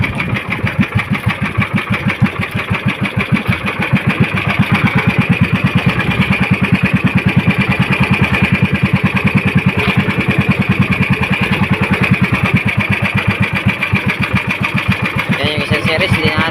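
A motorcycle engine starting and then running in a steady, throbbing idle, close and loud, with a voice talking over it.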